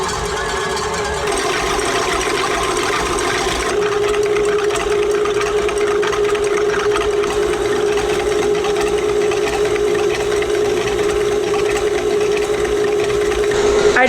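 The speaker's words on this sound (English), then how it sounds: "I'm gonna start whipping the eggs" Electric mixer whipping egg whites until frothy for coffee macarons, a loud, steady motor whir that holds an even drone throughout with a slight shift in pitch early on, no talking.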